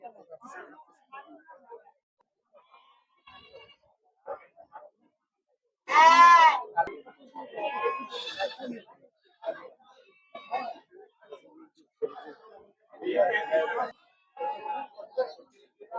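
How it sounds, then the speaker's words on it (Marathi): Osmanabadi goats bleat at a goat and sheep market, with several loud, wavering calls rising between steady chatter from people talking nearby. "यांच्याकडे उस्मानाबादचे शेळे आहे"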